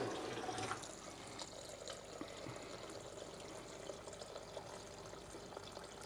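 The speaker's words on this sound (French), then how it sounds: "Allez, je vais rajouter de l'eau." About a litre of water pours into a pot of chicken soup, a steady, fairly quiet rushing gurgle that slightly swells at the start and then continues evenly, with no one speaking.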